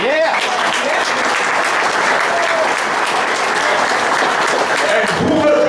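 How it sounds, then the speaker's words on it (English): Loud, sustained applause from a crowd at a general meeting fills the room steadily for several seconds, with voices cheering and calling out over the clapping. "I want y'all to give a round of applause to all the women in this room"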